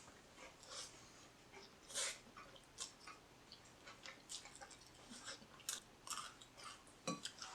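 Someone takes a bite of very spicy ramen noodles and chews it, producing soft wet crunches and smacking bursts in an irregular rhythm, close to the microphone, with faint breathing between bites and no talking.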